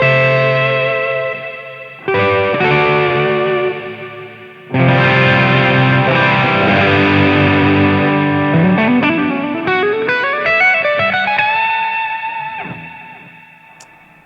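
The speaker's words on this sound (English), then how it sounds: "now I'll add reverb" An electric guitar played through an amplifier with distortion and added reverb rings out in sustained chords, then a slide climbs upward and the tail fades away into echo.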